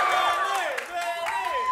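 An improv show crowd at a student end-of-semester performance applauds and cheers for a performer, with high whoops and yells riding over clapping throughout.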